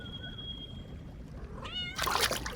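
A cat gives a single quiet, drawn-out meow in a hot spring setting, with a thin steady tone and a low background murmur before it and a burst of splashing, pouring water right after.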